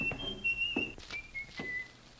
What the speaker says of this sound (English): He slammed the front door and he was whistling.